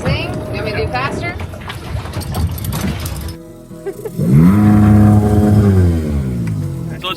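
Outboard boat motor freshly fitted with new spark plugs, idling and then revving up in a strong, steady drone with rising and falling pitch, following a stretch of talk and clatter.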